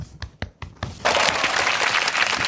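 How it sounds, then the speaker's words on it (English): A few scattered claps open, then a crowd bursts into full, dense applause that holds steady and loud to the end. "Round of applause."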